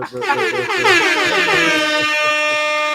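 A loud, blaring air horn sounds continuously, with a sharp opening burst settling into a sustained, steady tone for the whole stretch.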